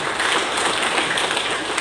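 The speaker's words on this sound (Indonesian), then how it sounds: "Kita berikan tepuk tangan bagi Pak Juandi David" Steady crowd applause fills a community gathering hall during a district official's visit in Indonesia, a dense continuous patter of many hands at even loudness from start to finish.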